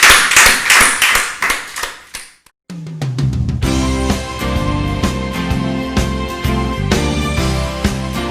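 A church congregation at an online evening worship service claps briskly for about two seconds, the sound fading out before music with steady chords begins and carries on to the end.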